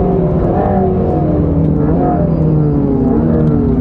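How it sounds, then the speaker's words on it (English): A Mercedes-AMG GT3 race car roars past on a racing circuit, its loud engine note rising and falling as it draws alongside, heard over the steady drone of the car it is overtaking. "I'm gonna let the AMG GT3 go flying past me."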